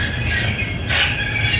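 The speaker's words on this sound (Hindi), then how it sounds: "फाइनली दोस्तों जंड जंक्शन पहुंच गई ट्रेन।" A train pulling into Jand Junction on Pakistan's ML-2 line, a steady loud rumble of rail wheels with high metallic squealing throughout, close by and without speech.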